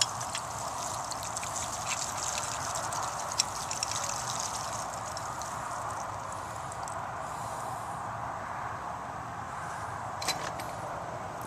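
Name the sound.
water trickling from a cut copper supply pipe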